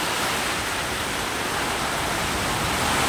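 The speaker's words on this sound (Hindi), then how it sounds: "तो अचानक में ऐसे बारिश हुआ।" Heavy rain pours down outdoors at night, a loud, dense, unbroken hiss of water that stays constant throughout with no voices or other sounds breaking through.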